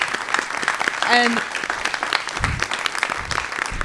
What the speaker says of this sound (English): I would really like to ask for a giant round of applause for Ramesh